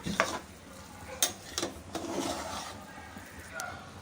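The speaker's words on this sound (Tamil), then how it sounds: "இந்த கரண்டியை வச்சு மிக்ஸ் பண்ணி விட்டுக்கலாம்" A ladle mixing and mashing cooked rice and dal in a pot, soft scraping and squishing strokes with a few sharp clinks, fairly quiet and close, with a faint voice in the background.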